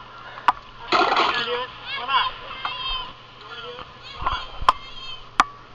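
Water splashing as someone runs through waves in a pool, in irregular bursts of sloshing, with a voice and other voices chattering close by and a few sharp knocks.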